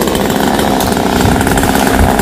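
A chainsaw runs while cutting down a large eucalyptus tree in a cramped space, its engine roaring loud, close and steady for the whole stretch.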